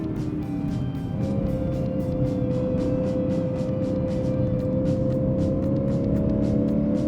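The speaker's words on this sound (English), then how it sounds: "Pop it up into second there, come in hard and push this thing a little hard for a second here." A V8 Lexus IS 500 F Sport pulls hard in second gear, a steady, rising engine drone heard from inside the car, loud and continuous without speech.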